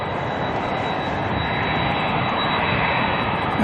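Continuous roar of an ATR turboprop airliner in All Black livery arriving at Auckland Airport, a loud, steady engine drone with no talking.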